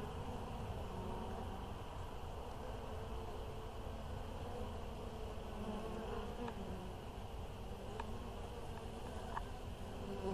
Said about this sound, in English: Y'all see the pollen sacks on the back of that bee that just went down in there?